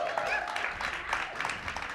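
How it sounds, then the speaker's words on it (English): An audience applauding at the kick-off event of Calgary Innovation Week 2025, a steady wash of clapping throughout the brief moment, moderately loud and roomy, with a voice speaking over it. "Keep that applause going."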